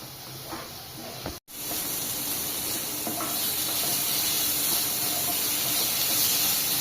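Chicken khichuri frying under a lid in a pot, a loud, steady hiss and sizzle of steam that briefly drops out, then returns and holds constant, close and unbroken.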